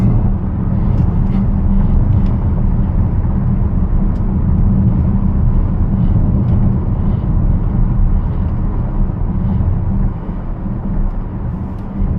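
Steady low road and wind roar inside an Audi SQ6 e-Tron electric SUV travelling at highway speed, a constant loud rumble that eases slightly near the end, with no talk.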